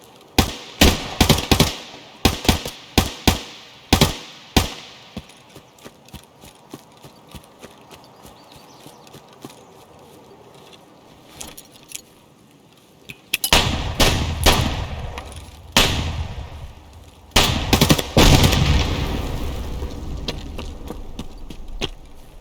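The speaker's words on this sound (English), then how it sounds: "That might be somebody shooting at me." Gunfire from another player in Escape From Tarkov on the Woods map: sharp, close shots come in quick bursts early on, then after a pause dense volleys of louder, heavier firing crowd together, with no talk over them.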